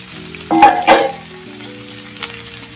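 Onion and capsicum fry in a pan with a steady close sizzle, broken by a couple of louder stirring scrapes near the start and softer ones later.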